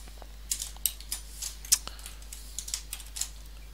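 Scattered keystrokes on a computer keyboard, a handful of light, irregular clicks picked out one at a time at close range in a quiet room.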